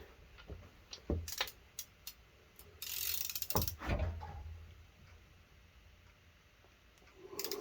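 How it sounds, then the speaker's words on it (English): A ratchet works on bolts during piston and connecting rod installation on a Mopar 360 engine, giving faint, scattered clicking bursts and metallic clatter with quiet gaps between them. "So now get my ratchet."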